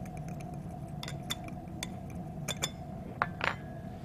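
A spice rub with a pinch of salt is stirred in a bowl for tuna steaks, producing soft, scattered clinks and scrapes of a utensil against the dish, faint and close with no talk.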